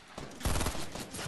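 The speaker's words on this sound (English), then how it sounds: "I hear shots." Rapid bursts of gunfire in a Fortnite match near Greasy Grove, loud and close, crackling in a dense volley through most of the moment.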